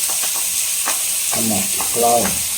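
Ginger and garlic fry in a pan with a steady, close sizzle and hiss, and brief stirring scrapes come through partway along.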